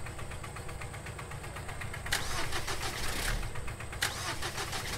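Cranking attempts of an old car engine in a horror video game, with two sharp bursts of starter grinding over a steady low rumble and hiss, no voices.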